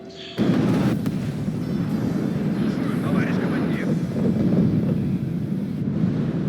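A bombing run from a warplane in the WARNO battle game: a loud, sustained roar of aircraft engines and rumbling blasts fills the scene, with players talking over it.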